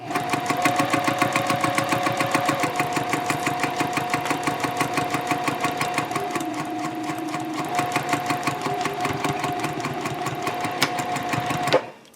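A domestic sewing machine stitches a zipper into a fabric shopping bag, running in a steady rapid mechanical chatter for about twelve seconds before stopping abruptly at the end, close and alone with no talking.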